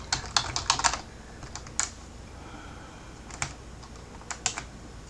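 Computer keyboard keys tapped in short bursts, a quick cluster of clicks, then a pause and a few scattered keystrokes, close and fairly soft in a quiet room.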